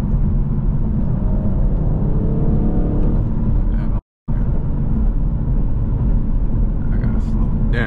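A BMW M850 driving through New York City gives a steady, loud engine rumble and whir from inside the cabin, broken by one brief dropout partway through.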